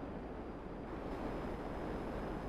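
Steady, broad rushing wind noise in a GTA 5 video game, loud and constant throughout, like gusts buffeting a microphone, with no voices.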